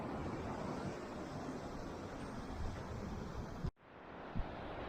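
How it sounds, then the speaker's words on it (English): Ocean surf rolling in at Tamarack Beach in Carlsbad, California: a steady wash of breaking waves with wind buffeting the microphone, broken by a brief dropout near the end before the surf resumes. "So obviously this is Carlsbad Beach, Tamarack Beach"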